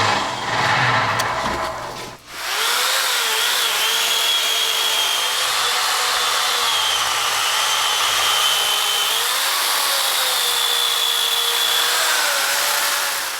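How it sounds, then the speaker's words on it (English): A chainsaw roars steadily for over ten seconds cutting redwood, its engine pitch wavering slightly as it cuts, loud and close with no talking. "we can go to start to work with the chainsaw."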